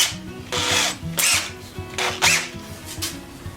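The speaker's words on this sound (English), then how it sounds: "going to require a drill to drill out the old one." A power drill whirs in short bursts, drilling out an old rivet, spinning up and down several times, close by with no talking.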